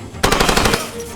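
Machine gun fire in the video game Far Cry 2: a loud, rapid burst of about eight shots lasting half a second, close and sharp, followed by a brief fading tail.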